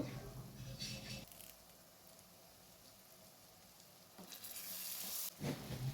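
Curry leaves hit hot oil with softened onions, bursting into loud sizzling and spitting that fades to a quieter simmer, then swells again with stirring for a dried-fish curry.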